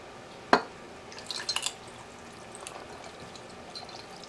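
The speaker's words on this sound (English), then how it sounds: "give it a quick stir, and we're going to pour it over our feta." A single sharp splash followed by a few soft pours and drips of brine poured over homemade feta cheese in a container, quiet and close, with no talking.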